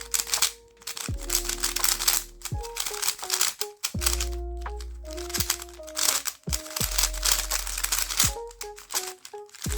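Close-up turning of a Meilong 3x3 V2M speed cube with a low-pitched sound, a steady run of rapid clicks and crinkly clacks with brief pauses and a few tonal squeaks, no talking.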